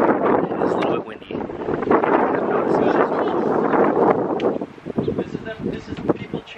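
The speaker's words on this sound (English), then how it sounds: "It's a little bit windy." Gusty wind blows steadily across an outdoor microphone in a backyard, a loud, continuous rumbling roar with rustling that eases briefly near the end, while people talk throughout.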